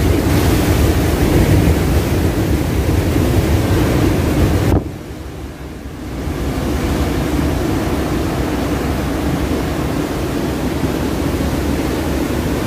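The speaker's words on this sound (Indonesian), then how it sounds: "benturan ombak dengan batu keindahannya seperti ini ya kawan" Ocean waves crashing against rocks near a beach cave, a loud continuous roar of surf mixed with strong wind buffeting the microphone, briefly dipping before the rush resumes.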